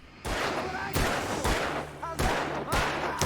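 Several sharp gunshots ring out in Alan Wake 2, a rapid string of loud cracks about half a second apart, with character voices talking between the shots.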